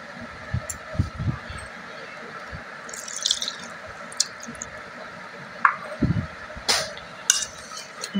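Milk poured in small additions into malpua batter, with soft drips and wet squishes, several brief splashes and faint clinks spread across a quiet kitchen backdrop.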